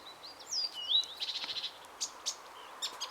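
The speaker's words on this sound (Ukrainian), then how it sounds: "Як цвірінькають пташки." Small birds chirp at 4 am during white nights in June, bright high tweets and a quick trilled run, fairly close and clear over a quiet background, no voices.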